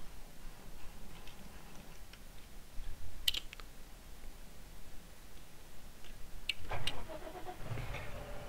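A vehicle engine cranking and catching in Landwirtschafts-Simulator 17 forestry play, with faint ticking and clicks before a low rumble rises near the end, fairly quiet overall.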